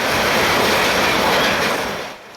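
A long Maryland Midland freight train passes close by, its loud, continuous rumble and wheel clatter mixed with faint squeal before it tapers off at the end.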